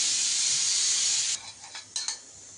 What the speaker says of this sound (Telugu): దీంట్లో ఇప్పుడు కొంచెం ఆయిల్ వేసి బాగా వేయించుకోవాలండి